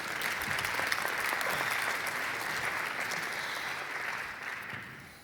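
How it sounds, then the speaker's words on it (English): An audience at an Invictus Games Foundation conversation event gives a round of applause to foundation staff, a steady dense clapping that holds throughout and tapers slightly toward the end. "you can give them a round of applause"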